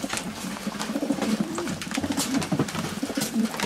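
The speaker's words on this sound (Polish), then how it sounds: "Piękne gołębie, naprawdę." Racing pigeons coo softly and continuously at close range, low throaty rolling calls repeating over faint background rustle.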